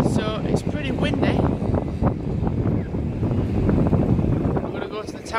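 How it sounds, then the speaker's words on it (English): Strong wind buffets the microphone outdoors in Blackpool, a loud, continuous rumbling roar that rises and falls throughout, with voices audible under the gusts. "So it's pretty windy."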